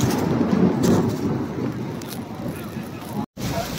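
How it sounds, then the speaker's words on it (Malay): Hail falling in Mecca, a steady dense rattling and hiss with low rumble, continuous and fairly close, with a brief dropout near the end. "Hujan es turun di bumi Mekah Al-Mukarramah"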